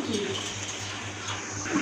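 Pigeons coo softly and repeatedly against a steady low hum, with a muffled background murmur.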